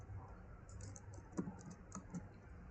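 Quiet, close typing on a computer keyboard as a prompt is entered, with irregular soft key clicks and a few firmer taps over a faint background hum.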